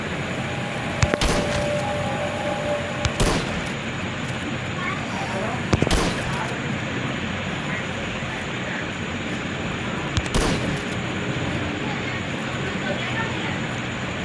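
Gunfire in the zombie video game Deadly Nightmare, a few sharp loud shots spaced several seconds apart over a continuous rumbling game backdrop, with a voice talking over it.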